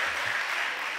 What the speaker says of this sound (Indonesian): tepuk tangan untuk guru kita Kiai Al-Hajj Adrian Mafatihullah Karim